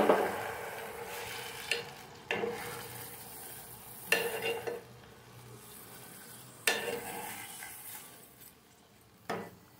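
A spoon stirs bitter gourd tamarind stew in a pot after salt, turmeric and a glass of water are added, making scraping strokes roughly every two seconds over a quiet background.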